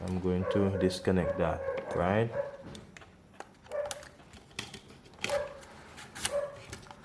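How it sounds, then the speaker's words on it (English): A pet dog gives a few short, fairly close barks and yips at the start, then quieter whimpers, while someone talks over it during a phone repair at a workbench. "That's my dog just saying hello to you guys."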